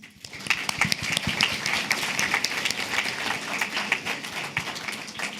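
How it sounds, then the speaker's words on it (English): A crowd applauds steadily, a dense wash of many hands clapping at even loudness with no pauses and no talking. "Clapping is now in order."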